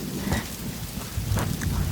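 Steady heavy rain pours down in a thunderstorm, a dense close wash of drops with low rumbling underneath, no voices present.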